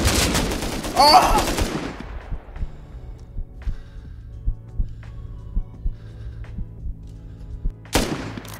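Gunfire in the video game Rust: a loud burst near the start followed by a steady series of short, evenly spaced sharp shots, ending with another loud burst, with a brief shout at the outset.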